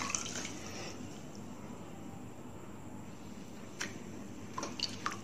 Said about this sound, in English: I am pouring all the water to another bowl.